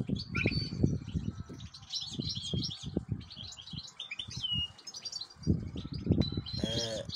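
Small goldfinches chirp and tweet in quick scattered bursts, close and lively, over intermittent low rustling and muffled background noise.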